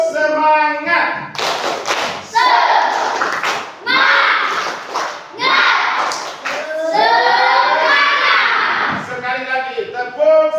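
A school class performs a rhythmic spirit clap, loud patterned bursts of children clapping in unison alternating with a teacher's voice and children chanting between the clap sequences.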